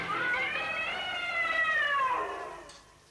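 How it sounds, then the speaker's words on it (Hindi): Cat giving one long, drawn-out meow that bends up and then down before fading, close and clear with no other sounds around it. "शेर की मौसी हैं, बिल्ली मौसी"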